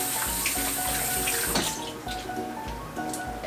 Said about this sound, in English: Let me go quickly wash my hands.